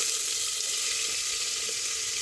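Three large chopped onions frying in hot oil in a pressure cooker for chicken curry, a steady, loud, dense sizzle with no pauses and no voices.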